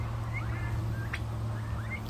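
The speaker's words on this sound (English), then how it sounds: "And we have some turkeys." Turkeys in a temporary outdoor pen give a few warbling gobbling calls over a steady low hum, moderately distant.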